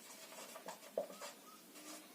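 Soft scratchy strokes and taps of a pen or marker writing an equation on a board, faint and close, in short irregular bursts with one sharper tap.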